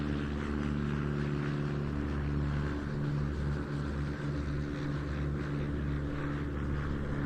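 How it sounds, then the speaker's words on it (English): Piper L4 Cub light aircraft flying at an airshow, its propeller engine giving a steady, loud, unbroken drone that holds an even pitch throughout, with no talk. "Ladies and gentlemen, the GI flight Piper L4 Cubs."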